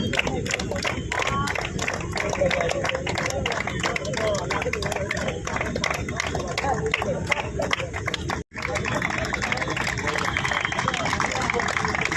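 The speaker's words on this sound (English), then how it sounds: "please give a huge round of applause for our" Audience applause and cheering for the winners of the 63rd Subroto Cup Under-17 football tournament, a dense crowd roar that carries on steadily with a brief cut, under an announcer's voice.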